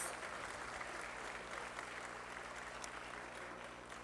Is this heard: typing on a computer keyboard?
no